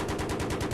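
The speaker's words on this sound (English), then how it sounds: "You're in a building where the walls are being removed by a gun." Rapid automatic gunfire in the video game Battlefield 3, a quick burst of repeated shots in even rhythm, fairly faint and brief.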